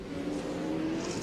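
Touring race cars at the 2003 Sandown 500 come through a kink on the back straight, a brief steady engine drone heard at a distance without commentary.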